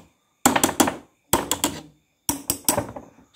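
Hammer handle knocking a rusty fan part on a Miyako electric fan, three rapid clusters of sharp metallic taps, each a quick double or triple strike, close and fairly loud with silence between.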